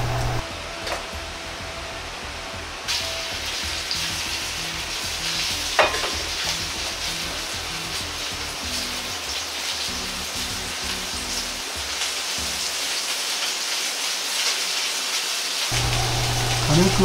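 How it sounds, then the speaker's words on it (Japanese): Loud, continuous sizzling of chicken stir-frying in oil in a preheated pot, with occasional stirring clatter and a steady hiss throughout. "鶏肉を炒めていきます。"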